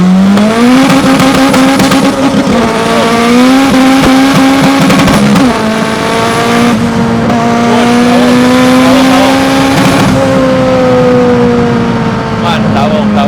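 A loud turbocharged Honda B18 engine in a Honda EG4 revs hard in second gear and climbs in pitch, dips at a gear change, then pulls again, roaring close and continuous.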